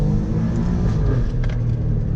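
An Alfa Romeo Giulia Quadrifoglio engine with its exhaust valves removed drones deep and loud on a downshift, with a steady low rumble and a few faint crackles near the middle.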